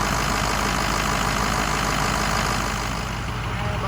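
Truck engine idling during an exhaust back pressure sensor and fuel pressure check, a loud, steady, close rumble with a constant low drone running unbroken throughout.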